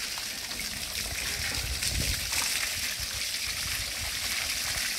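Running water rinses a Valais sheep's fleece during washing, a steady hissing trickle and splash that stays constant and fairly close throughout, with no one talking.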